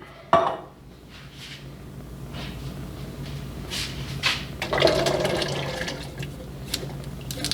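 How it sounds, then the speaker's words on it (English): A can of water poured into a pot of canned beans while making chili, a short splash followed by a steady running pour with faint clinks of metal and pot. "for every can of beans I dump in a can of water with it."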